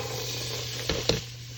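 Onions frying in hot oil in a pan make a steady broadband sizzle throughout, with two brief louder bursts near the end, as if stirred or shifted.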